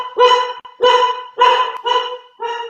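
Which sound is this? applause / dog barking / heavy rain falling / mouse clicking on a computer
dog barking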